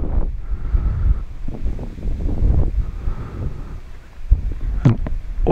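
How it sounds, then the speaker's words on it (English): Strong gust of wind buffeting an outdoor microphone at a model glider flyoff contest in Dupnitsa, Bulgaria, a steady broadband rumble with surging loudness and a sharp blast near the end, no talking. "There's now a very strong gust of wind in my back."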